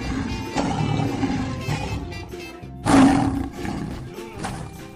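A toy lion on a truck letting out a loud, growling roar, rising in two bursts over busy background sound with some talking.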